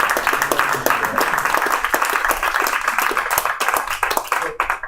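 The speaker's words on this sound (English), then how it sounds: "Mike Sullivan, give him a round of applause" A crowd at a live event in a factory applauds a guest, steady dense clapping throughout, loud and close, with faint voices and cheers mixed underneath.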